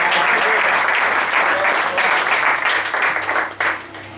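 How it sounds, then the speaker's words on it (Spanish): An audience applauds continuously, a dense wash of many hands clapping that thins slightly near the end. "Dad un aplauso a Jordi Galo"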